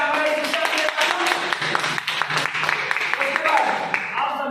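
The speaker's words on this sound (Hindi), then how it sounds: "एक बार जोर का तालियां हो जाए हमारे सिस्टम के लिए" An audience claps steadily throughout, with speech carrying over the applause.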